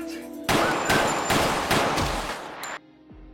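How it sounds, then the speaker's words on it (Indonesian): A pistol firing in a yakuza film scene: several loud, close bursts of rapid gunfire run together for about two seconds, then break off into near silence. "Ketika sadar, Megumi langsung menembaknya"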